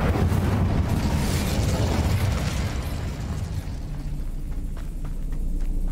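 A fire spell cast in the video game Hogwarts Legacy erupts as a loud, sustained roaring whoosh of flames, rumbling heavily throughout and fading slightly toward the end.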